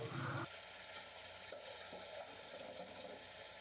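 Chicken pieces fry in a pan while being prepared for a Bangladeshi-style chicken biryani, a faint steady sizzle with a brief louder stir or scrape at the start.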